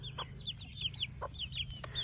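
Young chicks peep in high, bright chirps over a low, steady clucking from hens, with an adoptive hen among them, all close by in a garden run and with no talking.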